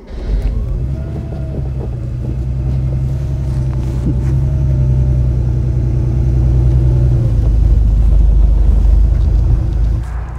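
A 1989 Porsche 911 Speedster from Walter Röhrl's collection drives on, its engine a continuous low rumble mixed with wind noise that builds and holds steady, with no voices.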